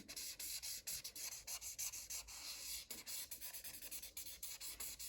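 Pencil sketching on paper, quick scratchy back-and-forth strokes in short rhythmic bursts, close and faint.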